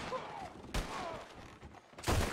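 Rapid bursts of gunfire in a Red Dead Redemption roleplay session, several shots cracking over a dense background of game sound, with a louder burst near the end.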